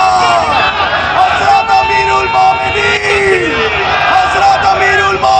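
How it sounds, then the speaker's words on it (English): An excited crowd surges along a street in Peace Village after the Khalifa of Islam during a short walking tour, a steady, dense hubbub of many voices and shouts close by throughout. "excitement could be felt throughout the crowd as they rushed after Huzur"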